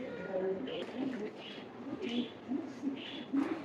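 A Rampuri teddy pigeon with golden kamgar colouring coos softly in a repeated low rhythm of short calls, close by, while someone talks over it.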